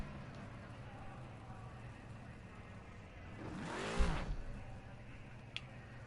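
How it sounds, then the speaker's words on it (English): Race car at the Nürburgring sweeping past, rising from a distant engine drone to a loud close whoosh with a falling pitch, then fading under steady background noise. "Here comes the long line of cars which I was talking about."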